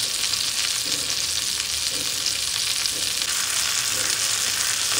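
Chicken pieces frying slowly in a pan for tangri kabab, a steady close hiss of oil sizzling throughout, with no voices.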